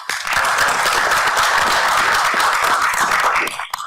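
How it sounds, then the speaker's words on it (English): An audience gives a sustained round of applause to welcome a guest speaker at a community lunch gathering, dense, loud and steady, tapering off near the end. "But I'd just like to welcome Dan and give him a round of applause"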